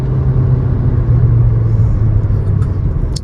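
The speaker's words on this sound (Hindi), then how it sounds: "लेकिन हाई आरपीएम पे थोड़ा सा इंजन का नॉइज केबिन" Engine noise from a Toyota Hyryder AWD at high RPM, heard inside the cabin as a steady, loud low drone and rumble with no talking.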